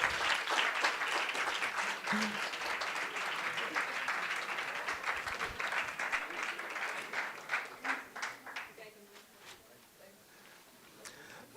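An audience at a hackathon finals applauds, dense clapping that holds strong, then thins into scattered individual claps toward the end.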